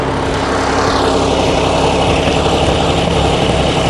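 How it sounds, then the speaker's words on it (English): A tractor engine runs steadily while hauling a heavy load of firewood pavilion materials, a loud continuous droning hum with no talk. "I don't know if this tractor will take the entire weight of all these"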